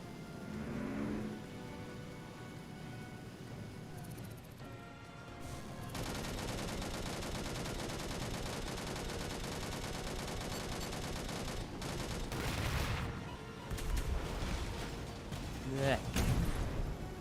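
Gunfire in the first-person battle game Angels Fall First, with sustained bursts and volleys of shots rolling on under a speaking voice, growing denser and sharper toward the end.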